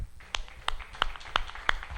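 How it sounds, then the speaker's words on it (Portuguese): A church congregation clapping in praise, a loose, rhythmic run of separate claps at a moderate distance over a low background murmur. "Uma salva de palmas ao Senhor"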